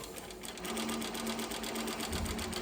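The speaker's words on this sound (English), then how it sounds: "Now I'll show you how the machine works. You jockey on the pedal, you see, nice good control" A PFAFF 335-G-6/01 cylinder-arm walking-foot industrial sewing machine runs steadily while stitching leather, giving a close, continuous rapid mechanical rattle with a faint motor hum underneath and no talk.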